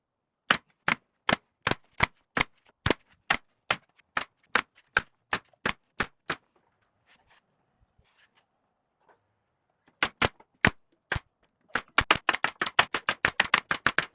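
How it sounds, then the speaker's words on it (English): A brad nailer fires into the pieces of a cabinet carcass in a shop, with a quick steady string of about sixteen sharp pops, then a pause, a few more shots, and a rapid final burst, all loud and close. "I think I can just brad nail each one of these pieces into the carcass individually"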